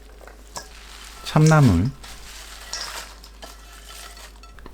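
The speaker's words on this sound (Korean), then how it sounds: "고춧가루 2큰술 넣고 콩나물에 양념을 버무립니다" Bare hands toss and squish bean sprouts in a bowl with sesame oil and chili powder seasoning, a soft, steady wet rustling throughout, briefly overlaid by a loud sliding musical tone.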